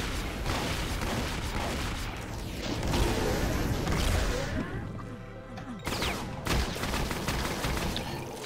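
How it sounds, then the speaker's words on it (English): Gunfire and explosive crashes come from Brutal DOOM, a video game, played co-op. Dense, loud shooting runs almost the whole time, briefly thins near the middle, then resumes with sharp bangs. "Stop shooting."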